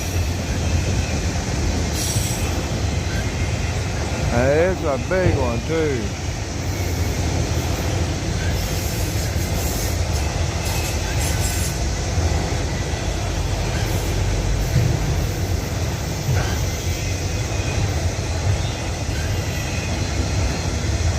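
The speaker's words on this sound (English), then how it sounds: "and this is my first train." A freight train rolls steadily past in Abbeville, a long loud rumble of wheels on rails with a brief squeal of wheels near the start. Someone speaks briefly over the noise.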